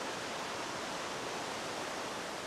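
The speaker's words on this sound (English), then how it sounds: "lots of mini waterfalls where the water's splashing over the rocks" River water splashes steadily over rocks in a series of small waterfalls, a dense, continuous rushing wash heard close and alone with no break.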